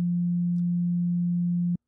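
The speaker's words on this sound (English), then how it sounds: "If I play a sine wave" A pure sine wave played on a KiloHearts synthesizer, a steady low tone held for under two seconds and then cut off abruptly.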